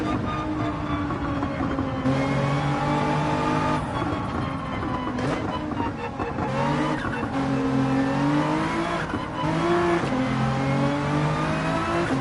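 Nissan GT-R race car engine in Gran Turismo 7 droning loudly and steadily, its pitch climbing and dipping through gear changes, with a faint hiss of track noise underneath.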